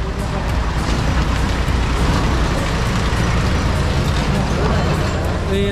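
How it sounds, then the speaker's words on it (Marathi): A vehicle bound for Kolhapur rumbles loudly and steadily as it sets off, a dense engine and road roar filling the scene while people talk over it. "कोल्हापूरला आता निघते गाडी."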